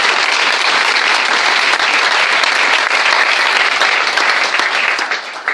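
A church congregation in Yaoundé, Cameroon, applauds the Lord with loud, dense, sustained clapping that fills the whole stretch and tapers slightly at the end.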